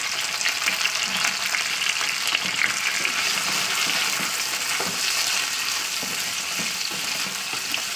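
Potato, pumpkin and tomato frying together in oil, a loud dense hiss of sizzling close up with soft stirring scrapes throughout, no speech.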